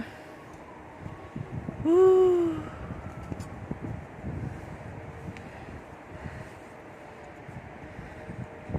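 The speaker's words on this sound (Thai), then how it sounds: "ได้ยินเสียงลมไหมคะทุกคน" Strong wind from a storm in Ireland buffets the microphone with a low, steady rumble, and a brief wavering tonal cry rises over it near the start.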